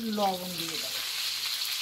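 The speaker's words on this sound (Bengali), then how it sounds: "আলুটা ভালো করে ভেজে নিয়েছি" Potatoes frying in oil, a soft steady sizzle, with a person speaking briefly over it at the start before the frying carries on alone.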